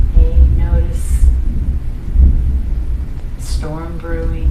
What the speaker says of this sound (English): Hearing some thunder.